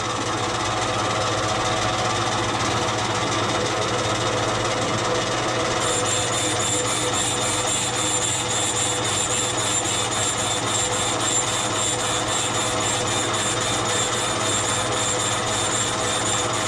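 Engine valves being lapped into their seats on a John Deere WA tractor engine build, a steady continuous rubbing, grinding scrape that runs close and unbroken throughout with no talking.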